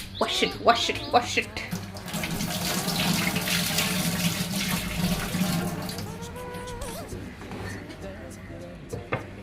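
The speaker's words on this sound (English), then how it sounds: "So some coriander leaves. He's going to wash it." Coriander leaves rinsed under a running kitchen tap, water splashing steadily for several seconds, with voices talking at the start and end.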